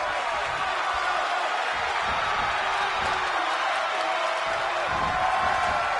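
Arena crowd in the wrestling video game WWE 2K20 during a title match, a steady, loud murmur of cheering and applause that swells slightly near the end, with a commentator talking over it.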